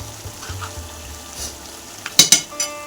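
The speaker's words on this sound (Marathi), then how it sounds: "अमूल बटर पण मिक्स करून घेऊ व्यवस्थित" Amul butter being stirred into a masala in a pan, a soft continuous scraping and faint sizzle, then a couple of sharper clinks of the spoon against the pan near the end.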